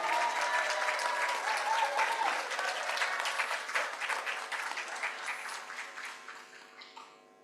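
An audience at a social work month event claps steadily, loud at first and then slowly fading away toward the end.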